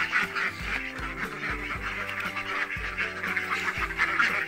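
Five-month-old laying ducks quack steadily in a pen, a dense overlapping flock of repeated honking calls close by, with no talk.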